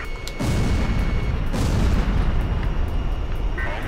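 Missiles launching and exploding in the Ace Combat 5 jet combat game, a loud sustained roar of blasts and rumbling booms under steady engine drone, with a sharp burst near the start.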